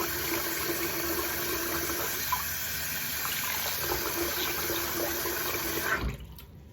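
Tap water runs steadily into a sink while a face is rinsed, a constant splashing hiss that carries on for about six seconds before the flow is shut off.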